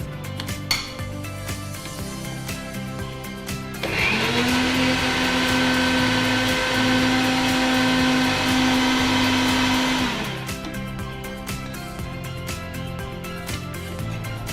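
A kitchen mixer grinder runs loudly for about six seconds, grinding tomato and green chilli with a little water; the whirring motor starts and stops abruptly against quieter kitchen clatter.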